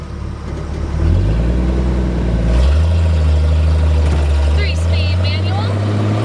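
A 1978 Jeep CJ-5 engine starts and settles into a loud, steady idle close by, its rumble rising in pitch early on, with a voice heard over it.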